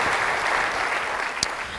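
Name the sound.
congregation applause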